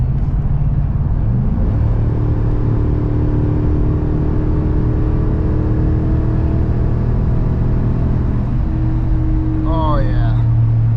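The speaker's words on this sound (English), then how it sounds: "Let's get one more exhaust note." The exhaust of a 2023 Ford F250 Super Duty with the Godzilla engine drones loud and close, a deep steady rumble that climbs in pitch as it revs under load, then settles. There is no talk over it.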